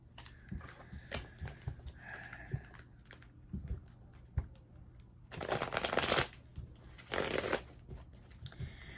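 Tarot cards being shuffled and drawn, soft scattered flicks and taps early on, then two loud, dense riffle bursts of the deck close to the mic.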